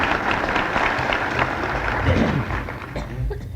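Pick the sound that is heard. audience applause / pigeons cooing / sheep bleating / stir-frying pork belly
audience applause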